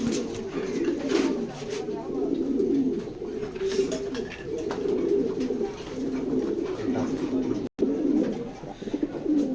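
Racing pigeons from a loft coo steadily in a low, murmuring chorus, many birds overlapping close by with a continuous throaty hum.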